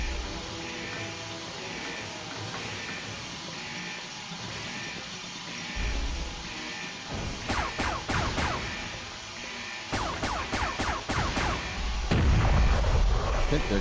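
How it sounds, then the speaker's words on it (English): Cannon fire in the Turok Evolution video game, heard as a run of repeated heavy bursts and booms in the second half over a steady game soundscape, with someone talking in between. "there goes that fucking cannon"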